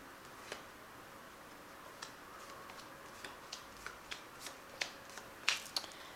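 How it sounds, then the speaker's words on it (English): Quiet, scattered flicks and snaps of a tarot card deck being shuffled and cut, a soft irregular run of light taps with no talking. "So I've shuffled this deck, I'll just cut it and we'll see."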